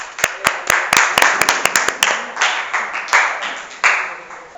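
Pupils in a classroom clap in short uneven bursts, sharp and close, with quick rhythmic claps at first and looser claps afterwards.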